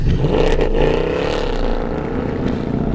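A deep, throaty 6.2-liter V8 engine of a 2014 Mercedes-Benz C63 507 coupe rumbling steadily at idle with a low burble, close and loud throughout.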